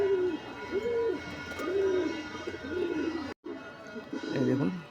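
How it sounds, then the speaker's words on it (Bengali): A female pigeon of a Madraz or Malwai type coos in soft, rolling, repeated phrases, fairly faint, with a brief gap near the end before the cooing resumes. "এই মাদা পায়রাটা শখ করাচ্ছি।"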